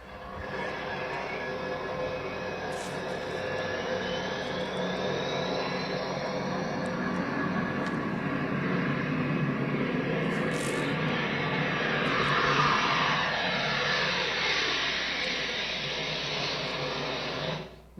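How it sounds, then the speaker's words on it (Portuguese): A commercial airplane taking off, its broad jet engine roar loud and steady throughout, swelling slightly near the middle before cutting off, with a faint rising whine over the rumble. "Aí era um avião decolando."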